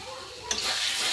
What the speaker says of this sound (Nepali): तोरी पनि भुटिँदै गर्छ यसमा मजाले